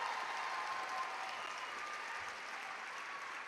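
Steady applause and crowd noise from a large audience at a school district back-to-school rally, sustained and even throughout without clear voices on top.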